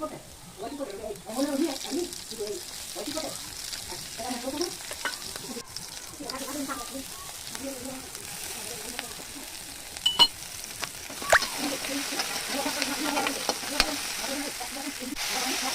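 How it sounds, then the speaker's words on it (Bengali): Onions fry with ginger-garlic paste in a pan for pasta, a soft continuous sizzle with occasional stirring clinks beneath a voice talking through most of it. "পেঁয়াজটাকে ভালোভাবে একটু ব্রাউন কালারে ভেজে নিতে হবে।"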